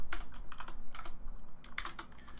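Rapid keystrokes on a computer keyboard during game engine programming, coming in uneven clusters of clicks with short pauses between bursts, close and clear with no talk.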